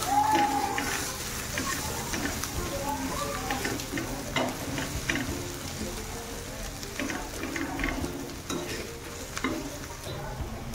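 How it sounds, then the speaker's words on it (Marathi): Spices including pav bhaji masala, chaat masala and kasuri methi sauté in a pan, giving a steady close sizzle under repeated scraping and stirring of a spatula, with no talking. "सगळे मसाले एकदम मिक्स करून छान परतून घेऊया"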